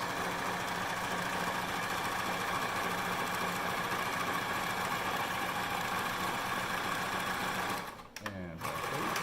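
A sewing machine stitches a cotton face mask with a steady, close mechanical whir that runs without a break for several seconds, then stops abruptly near the end.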